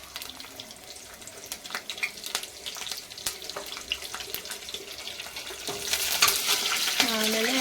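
Curry leaves and two green chillies fry in a pan for a soya chunks kurma, giving a steady close sizzle with light stirring and scraping, growing louder and brighter toward the end.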